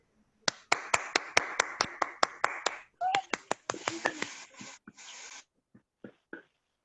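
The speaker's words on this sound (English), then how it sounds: "thank you all for that warm applause" Scattered applause from a small online club gathering, sharp individual claps in a quick uneven rhythm that thins out and trails off into a few isolated claps.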